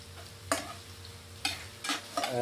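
Onions frying in oil for a fish curry, a soft low sizzle punctuated by four distinct scraping stirs of a spoon against the pan at uneven intervals.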